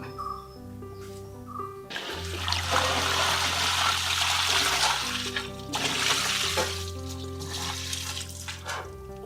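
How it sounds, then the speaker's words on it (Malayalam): Water trickles and splashes steadily for several seconds onto soil in a pot, a soft continuous pour with a low hum underneath. "ഇനി നമുക്ക് വെള്ളം ഒഴിക്കാം"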